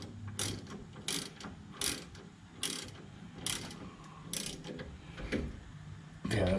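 A hand ratchet clicks in short, evenly spaced bursts, about eight strokes, while snugging the rear brake bolts on a Ford F150. The ratcheting sounds close and moderately loud over faint shop background.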